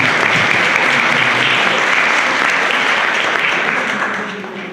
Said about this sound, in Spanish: Pido un fuerte aplauso para nuestros panelistas.